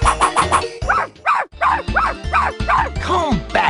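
A cartoon dog barking and yipping repeatedly in rapid bursts, loud and close, with a few whimpering yelps mixed in over a background music score.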